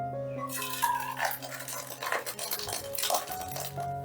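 A wok being set down on a stove, with close metallic clatter and clinks of cookware under a steady low hum of kitchen background noise.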